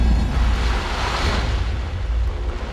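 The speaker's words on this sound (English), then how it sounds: "Pressurized gas creates an explosion that ejects the ash." Pressurized gas blasts volcanic ash from Mount Vesuvius out of a cylinder in a lab experiment, a loud roaring rush that slowly tapers over a few seconds.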